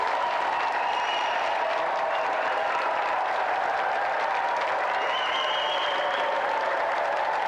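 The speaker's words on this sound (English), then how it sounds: "let's give him another round of applause anyway" A TV game show studio audience applauds continuously, a dense, even wash of clapping that holds steady throughout without fading.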